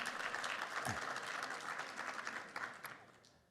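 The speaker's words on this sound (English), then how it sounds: "Yes, you can applaud him." An audience at the European Organic Congress plenary session gives a burst of steady, dense applause from a large hall, gradually fading toward the end.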